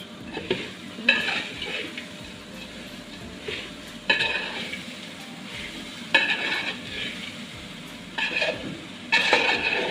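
Grated coconut being stirred into flattened rice in a pan for a sweet jaggery poha dish, with repeated scraping strokes and a faint sizzle, loud bursts recurring every couple of seconds and no talking.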